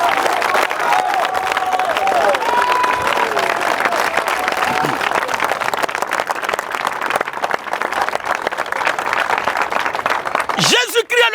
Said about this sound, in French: Je veux encore que nous acclamons le Seigneur Jésus-Christ.